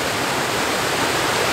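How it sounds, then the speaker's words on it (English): Mary Vine Falls on Vancouver Island pours in a steady, loud broadband roar of falling water, unbroken for the whole stretch with no voices. "particularly this waterfall here"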